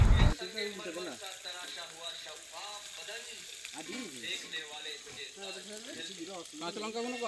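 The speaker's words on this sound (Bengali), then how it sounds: "এখানে আবার তেল দেওয়া হচ্ছে, পেঁয়াজ আদা রসুন সব কিছু ভাজা হবে," Onion, ginger and garlic frying in oil, a soft hissing sizzle running underneath near voices that talk almost continuously over it.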